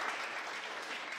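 A schoolroom audience at an environmental education club in Ziguinchor claps briefly, a soft, even patter of many hands heard from a short distance.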